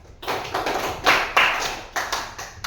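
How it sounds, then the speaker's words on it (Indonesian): Students in a classroom give a short round of applause after a group discussion presentation, a brief patter of claps from a modest group, fairly close, swelling and fading over a couple of seconds. "terima kasih untuk kelompok 3, beri aplaus"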